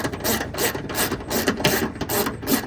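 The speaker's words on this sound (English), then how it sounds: "Now this is where we're gonna use that ratchet. It's gonna be a 10mm bolt." A hand ratchet turns 10mm bolts out of a Toyota Tundra headlamp assembly, giving a steady run of close, rapid clicking pawl strokes with a faint metallic rasp, continuous and unaccompanied by speech.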